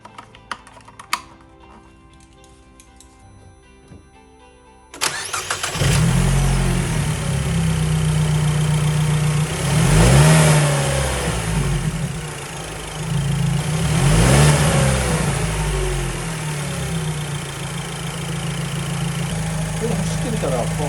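A cheap used Italian car fitted with new fuses, ground wires and battery terminals starts abruptly and then idles loudly, with two clear revs of the engine rising and falling, heard close up after a quiet stretch.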